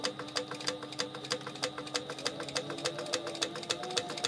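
A home sewing machine stitches along a clutch bag, a steady run of quick needle clicks over a constant motor whir, close and moderately loud.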